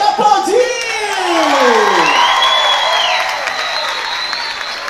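A crowd at a festa junina quadrilha event applauds and cheers loudly, with whoops and shouts over sustained clapping. An announcer's amplified voice sweeps over the noise.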